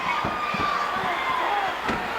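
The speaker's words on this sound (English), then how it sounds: "Look at this tremendous uproar of this crowd here at the Sam Houston Coliseum." A wrestling crowd at Sam Houston Coliseum roars in a dense, continuous uproar, with scattered shouts and a few sharp thuds from the ring.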